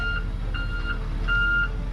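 An MTVR military truck drives in to pull a stuck excavator from swampy Louisiana mud, its repeated reversing beeps sounding in short pulses over a steady low engine rumble.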